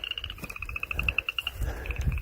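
A frog croaks in a rapid, even series of loud pulsing calls, close by, with a low rumble of background noise underneath.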